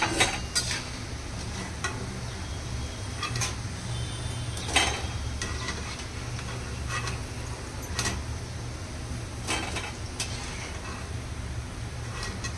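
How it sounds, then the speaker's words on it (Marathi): Fried sabudana-style fasting vadas lifted out of hot oil on medium heat, with steady oil sizzle throughout and scattered light metallic clinks and scrapes of a utensil against the pan, close and moderately loud. "झालेत वडे आपले चांगले फ्राय. हे बघा, काढून घेऊया."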